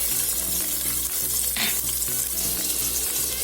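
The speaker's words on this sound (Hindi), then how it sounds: "तेल अब गर्म हो चुका है, तो अब हम इसी में ये जो ऑनियन है इसे भी डाल देंगे" Onion fries in hot oil in a pan for a mutton soup, giving a dense, continuous sizzle up close, steady and loud, with a brief louder hiss midway and no talking.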